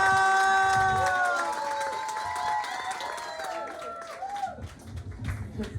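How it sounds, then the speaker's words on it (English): A crowd claps and cheers, with scattered shouts rising over a voice calling out at the start, the clapping continuing steadily afterward. "Let's start clapping right now."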